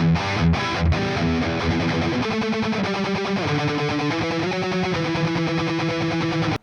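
Distorted electric guitar played through a Quad Cortex modeler with a phaser plus delay and reverb, loud and continuous with shifting chords and sweeping tone, heard alone without talk.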